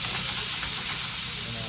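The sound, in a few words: green beans frying in olive oil in a skillet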